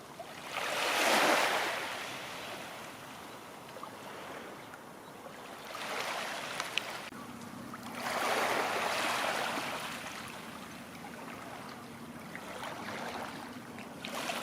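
Waves wash over a wide bay by a salt marsh and pebble shore, swelling and receding in slow surges with soft wind, gentle and moderately distant, no voices.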